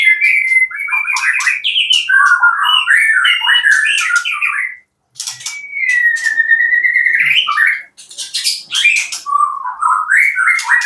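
Bright, varied birdsong of magpie-robins, whistled phrases, rapid chirps and trills, pours out continuously and close, pausing briefly twice before resuming.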